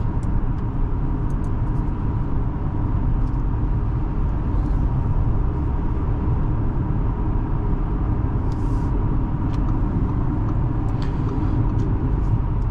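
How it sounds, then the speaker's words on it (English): Inside a 2024 Audi A6 45 TFSI cruising on the freeway, a low, steady road and engine rumble fills the quiet cabin, smooth and unbroken with no talking. "So on the freeway, like I said, the A6 is very quiet and smooth."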